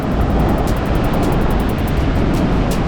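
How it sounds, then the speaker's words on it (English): Ocean waves crashing onto Kata Beach in Phuket, a dense, continuous roar of surf with faint rhythmic hiss, loud and close, with no voices. "Crushing noise of those waves."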